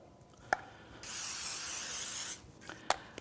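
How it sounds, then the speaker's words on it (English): Non-stick cooking spray spritzed into a baking pan for a noodle kugel: one steady hiss lasting over a second, bracketed by sharp clicks of the can, close and without talk. "So here what we're gonna do is give it a little spritz."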